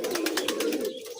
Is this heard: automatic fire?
no